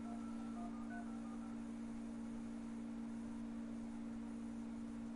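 A quick series of faint touch-tone keypresses sounds during a VoIP phone call, several short beeps packed into the first second and a half, then only a steady line hum.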